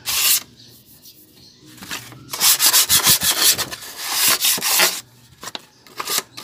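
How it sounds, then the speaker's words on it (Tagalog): Light hand sanding of a Nissan Navara brake drum with sandpaper, heard as bursts of scratchy rubbing strokes, close and fairly loud, with short pauses between passes. "So, try natin lihain ng konti."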